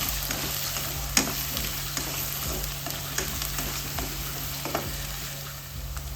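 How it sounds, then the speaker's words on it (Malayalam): Sliced onions and two small potatoes sauté in a pan over medium heat, giving a steady close sizzle with occasional stirring scrapes and taps throughout. No one speaks. "ഈ വഴന്നു വന്ന സവാളയിലോട്ട് 2 ചെറിയ കിഴങ്ങ് അതിട്ട് കൊടുത്ത് അതൊന്ന് വഴന്നു വരട്ടെ"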